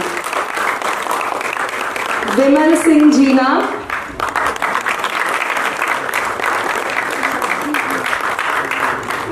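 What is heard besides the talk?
audience applause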